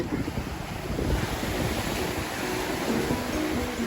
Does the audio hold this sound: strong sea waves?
yes